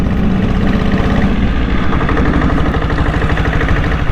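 A 7.5 HP diesel engine fitted to a Bullet motorcycle runs close and loud with a steady, rapid low-pitched thump at an even idle, heard alone for a few seconds.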